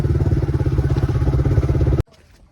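A motorcycle engine drones steadily and close by, its rapid pulsing rumble loud for about two seconds before cutting off, near a queue of bikes at a park entrance.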